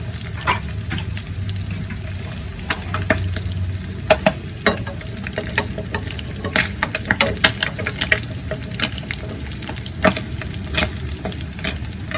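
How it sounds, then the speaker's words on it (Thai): Catfish deep-fries in a pan of hot oil, crackling and spattering steadily with sharp irregular pops throughout, close by. "ยังไม่กรอบเลยครับแต่กระเด็นนะฮะต้องปิดฝาไว้ครับ"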